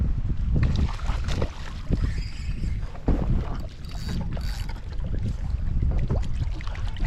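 A kayak paddled on very windy water during a fishing trip, with gusts buffeting the microphone and close, uneven splashes and sloshing from the paddle and hull, no voices.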